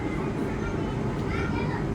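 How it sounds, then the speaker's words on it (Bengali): A Vande Bharat sleeper express rumbles steadily nearby with a continuous low roar as it arrives at New Alipurduar station, and a voice talks over the noise. "এবার আমাদের ঢুকছে ট্রেন"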